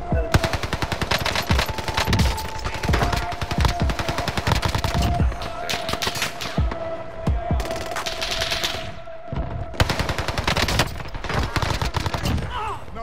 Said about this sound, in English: No, that was a shot.